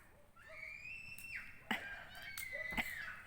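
Neighborhood children let out high, sliding screams and squeals outdoors, several overlapping calls with a couple of sharp bursts, heard at a moderate distance.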